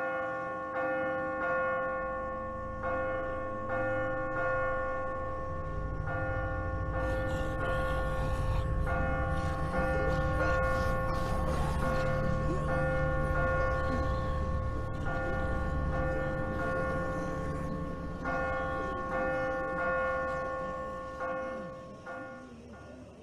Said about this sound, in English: I guess the only thing to do is to ring the bell.